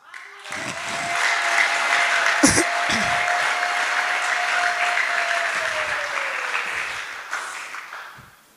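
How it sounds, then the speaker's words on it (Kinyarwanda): Applause from a church congregation breaks out and holds steady for about seven seconds before fading, with a sustained voice and a few brief sounds over it. "Utuduhinda twose Yesu yaraturangije, nimumumpera amashyi"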